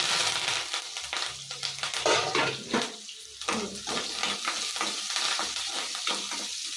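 Mustard seeds splutter in hot oil and curry leaves go in, producing a loud burst of crackling sizzle with uneven pops and stirring scrapes while a fenugreek huli is cooked, no talk heard.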